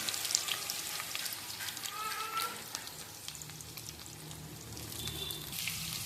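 Chopped onions frying in a pan for egg gravy, a quiet continuous sizzle with small pops and crackles, close and faint, with no talking.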